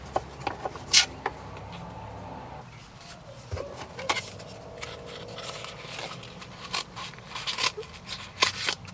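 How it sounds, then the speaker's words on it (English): A screen protector label from a Sticker Fab kit for a Ford Bronco Big Bend 8-inch screen is being cut, giving a series of sharp, crisp snips and light plastic clicks at close range, with quiet handling rustle in between. "Cut label with white applicator."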